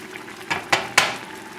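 Spinach cooking in a pan for a spinach and mushroom risotto, a steady soft sizzle and hiss broken by three sharp stirring scrapes against the pan, close and with no talking.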